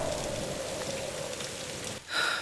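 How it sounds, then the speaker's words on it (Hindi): Heavy rain pours down at night during a thunderstorm, a dense even hiss of falling water that holds steady, dips briefly, then returns. "बाहर मूसलाधार बारिश हो रही थी और बिजली कड़क रही थी"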